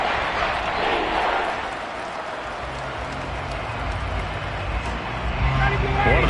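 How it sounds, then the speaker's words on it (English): Stadium crowd at a football game roaring steadily as a big third down approaches, a broad wash of cheering and noise that swells slightly toward the end, with a commentator's voice running over it. "The crowd getting into it"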